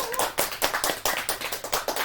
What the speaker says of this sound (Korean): 박수로서 시작하겠습니다.